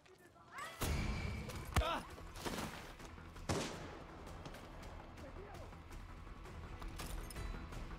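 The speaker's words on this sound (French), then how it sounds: "je tire un gros coup de feu en plein milieu" Gunfire crackles through a fight at an enemy fort in the video game Far Cry 6: several sharp shots and booming blasts ring out at irregular intervals over a steady din of game sound.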